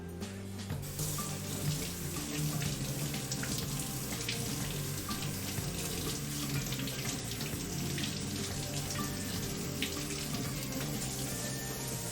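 Dirty radishes are rinsed under a kitchen tap as water runs steadily and loudly into the sink, with faint knocks of handling throughout.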